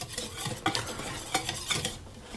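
Dry flour mixed with baking powder, salt and sugar being stirred in a bowl for muffins, a soft close scraping with a few sharper utensil knocks, no talking.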